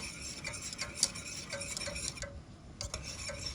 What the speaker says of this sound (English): Be patient with it, guys, and keep stirring.